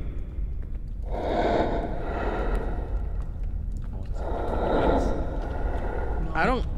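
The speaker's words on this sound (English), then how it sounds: "I hear your heavy breathing." Heavy breathing from a presence in the video game Forewarned comes as two long, loud, rasping breaths with a gasp at the end, under occasional voices.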